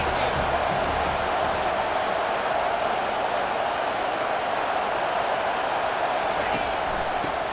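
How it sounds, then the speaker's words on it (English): Steady stadium crowd roar fills a college football broadcast in EA Sports College Football 25, a dense, continuous wash of many voices at constant loudness with no clear breaks. "This crowd trying to make life miserable for this offense."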